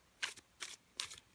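Three quick, soft papery riffs come as a 78-card Romantic Tarot deck is side-shuffled by hand, close and quiet, with no voices.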